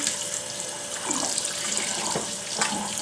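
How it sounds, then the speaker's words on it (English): A kitchen sink sprayer rinsing a raw turkey, a steady hiss of running water with splashy fluctuations as the spray hits the bird, close and alone without talk. "and rinse my turkey."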